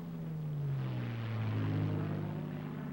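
P-51 Mustang fighter plane diving, its propeller engine droning with a pitch that slides downward as it passes, steady and moderately loud, heard alone.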